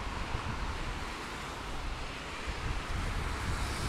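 Steady wind buffeting a microphone outdoors beside a commercial area in winter, a continuous low rumbling roar with surf-like gusts throughout, loud and close with no talk.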